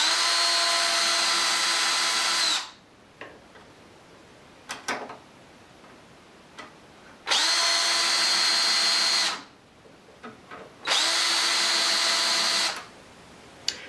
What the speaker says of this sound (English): And now I'll bore some holes for the screws.